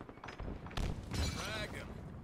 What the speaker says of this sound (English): Taking fire. Tossing a nade.